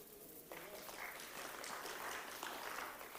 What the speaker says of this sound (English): I'm sure you can applaud them.